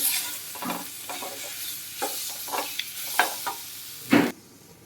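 A raw banana masala curry being stirred and fried in a pan: repeated scraping strokes of the spoon over a steady sizzle, close and clear, with no voices, ending abruptly.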